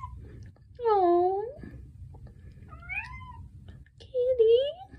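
A house cat meows several times indoors, close and clear, with rising and falling drawn-out calls separated by short pauses against a quiet room.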